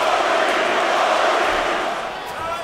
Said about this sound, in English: The chant of Rory.